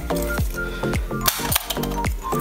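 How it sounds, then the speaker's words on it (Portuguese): Thin aluminium soda cans are pushed and twisted one inside the other, giving a run of light metallic creaks, clicks and scrapes that come in short bursts, close and fairly quiet. "você consegue encaixar uma latinha dentro da outra"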